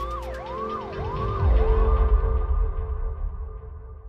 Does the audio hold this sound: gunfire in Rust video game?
no